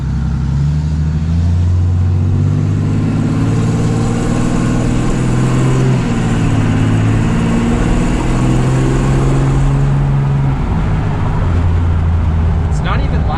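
A tuned Cummins diesel RAM truck engine rises and falls through several revs, a loud, steady low rumble with someone talking over it.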